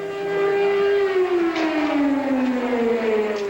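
Civil defense air raid sirens wail over Haifa, a loud sustained tone that slowly slides downward in pitch across several seconds with no talking.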